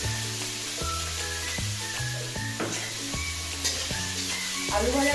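Sliced onion with a pinch of salt fries in oil in a pan, giving a steady, close sizzle with occasional stirring scrapes, accompanied by a held, tonal musical backing throughout.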